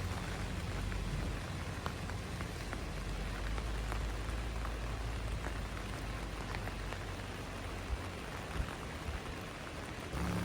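Steady rain during a drive uphill at Bukik Kapau on an asphalt road, a dense, even hiss of drops drumming on the vehicle with a low rumble underneath, continuous and moderately loud with no voices.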